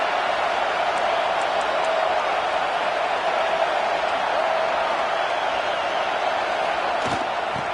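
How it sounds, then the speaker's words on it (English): Stadium crowd in College Football 26 at an Oklahoma Sooners game roars as a steady, loud, distant wash of cheering, with a few brief thuds and no break in the noise. "This crowd bringing the energy and noise early."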